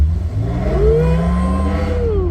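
Another car's exhaust revs nearby, heard from a Toyota 4Runner with its windows open; a loud engine note rises and sweeps upward, then holds steady over rumbling road noise, with no talking.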